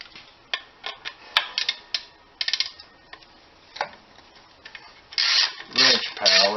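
A hand wrench turning bolts on an IH 584 tractor during a clutch install: irregular metallic clicks, ratchet rasps and scraping strokes up close, with a few louder grinding rubs near the end.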